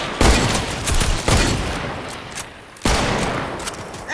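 Sniper rifle shots in the video game Fortnite: three loud, sharp cracks spaced over about four seconds, each followed by a short echoing tail, with no talking.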